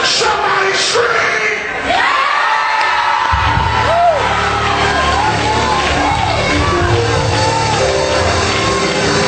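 Church congregation screaming, whooping and cheering loudly, a dense roar of crowd voices with rising shouts and yells that swells after a brief dip and carries on throughout.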